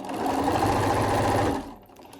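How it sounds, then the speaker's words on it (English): A sewing machine stitches stretchy jersey fabric for a scarf, giving a loud, close, steady whirring run that stops abruptly after about a second and a half. "try not to pull it too much when you're sewing because you don't want to stretch the fabric"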